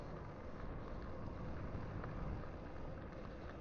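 Wind buffets the helmet microphone on a Honda XR250 dual-sport motorcycle riding through Arizona mountains. A steady, dense, low roar of rushing air lasts from start to finish, with no voices.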